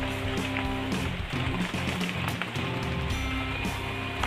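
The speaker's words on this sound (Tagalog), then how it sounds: "umuulan." Rain falls steadily outdoors during a typhoon in a rural Philippine setting, a continuous loud patter with scattered drops striking nearby surfaces and the camera, mixed with low background rumble.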